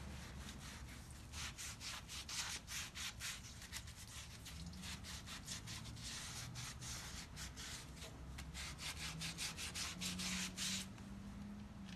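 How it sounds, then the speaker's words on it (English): Wheel rim hand-sanded with 400 grit wet/dry sandpaper under light pressure, a quiet rhythmic rubbing scratch of repeated back-and-forth strokes, close and alone. "you want to take your wet dry sandpaper. I always use just 400 grit and use light pressure and sand out all the imperfections"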